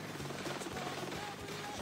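A helicopter in the video game Jet Set Radio whirs with a steady, rhythmic rotor chop held at moderate level in the background, fairly faint and continuous.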